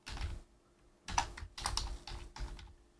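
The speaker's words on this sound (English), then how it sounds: "I can type in what I want to come in" Computer keyboard typing in short clustered bursts of key clicks, close and fairly quiet, separated by brief pauses, with no talking.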